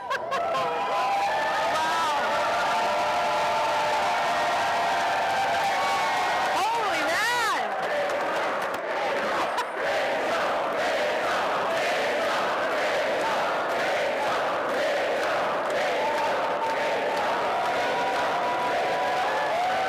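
A large crowd at a political nomination event for the Edmonton-Strathcona candidate applauds and cheers loudly and continuously, with whoops and shouts rising over the sustained clapping.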